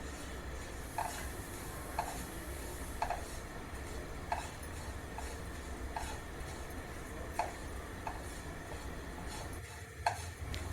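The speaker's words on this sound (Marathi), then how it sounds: "पहिले एक चमचाभर तूप घ्यायचं आणि ही जी वरई आहे ती चांगली भाजून घ्यायची स्लो गॅस करायचा" Barnyard millet (varai) roasting in a spoonful of ghee over a low flame, heard as a faint, steady bed of noise with soft periodic ticks and scrapes of a spoon stirring the grains in the pan.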